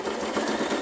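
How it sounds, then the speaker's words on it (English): Sewing machine running steadily as it stitches binding along the edge of a fold for a zippered pocket, a continuous close whirring hum without pauses or voices. "I'm stitching right along the edge of that fold"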